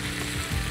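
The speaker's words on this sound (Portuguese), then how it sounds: "Depois está refogado um pouquinho." Chicken gizzards sauté in a pan, a steady close sizzle lasting under a second with no talking.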